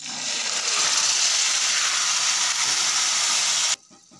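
A cup of water hits a pan of fried vermicelli, bursting into a loud, steady sizzle and hiss of steam for nearly four seconds before cutting off abruptly.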